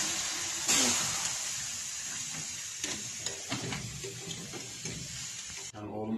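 Water runs and splashes inside a teapot as it is rinsed out in a small mountain-house room, a steady close running-water wash with some handling clatter, cut off abruptly near the end.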